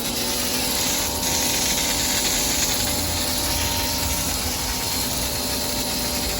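A Ryobi 1600 psi 1.2 GPM electric pressure washer runs steadily, with a constant loud motor-and-pump drone and hissing spray that continue unbroken throughout.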